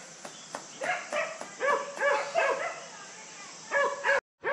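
Several dogs bark in short bursts during an outdoor walk, sharp woofs and yips arriving in rhythmic clusters at moderate distance, with brief pauses between volleys and faint background hiss.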